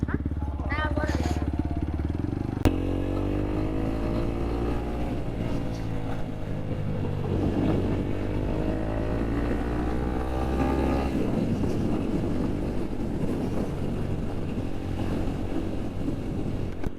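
Motorcycle exhaust rumbles close by with steady engine drone and rising revs. Voices talk over it throughout.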